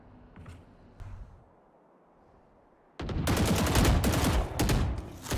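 Pre-firing gunshots in a competitive esports shooter match: a few faint distant shots over quiet ambience, then a sudden loud burst of rapid, sustained gunfire for the last couple of seconds.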